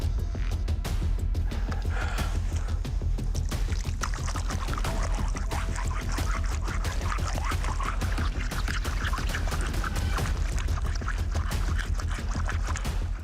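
Water poured and splashing over a stone slab, a steady continuous wash of sound at close range that keeps running without a break.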